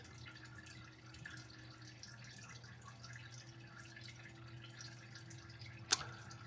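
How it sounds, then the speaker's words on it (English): Water trickles and drips slowly out of a Jaguar MKII engine block during reassembly, faint and steady against a low background hum, with one sharper click near the end. "Water draining from the block."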